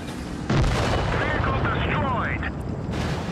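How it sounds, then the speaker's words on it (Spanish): Tank cannon firing in the video game WoT Blitz, one sudden loud boom that rolls into a sustained rumble while a voice talks over it. "está haciendo un ruido distinto al de siempre el cañonazo"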